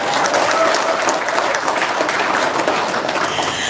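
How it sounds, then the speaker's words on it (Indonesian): An audience applauds steadily and loudly for the whole stretch at a folk-wisdom testimonial gathering, dense clapping with a faint murmur of voices beneath it. "Tepuk tangan dulu dong."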